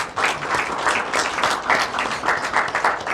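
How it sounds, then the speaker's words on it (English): An audience at a Saint Paul University graduation ceremony applauds, a dense and steady wash of many hands clapping in a large room. "Round of applause for Phoebe Biles."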